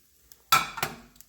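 Half a croissant is set into a microwave: a sharp clatter of a plate or door, then a second knock and faint handling clicks in a quiet kitchen.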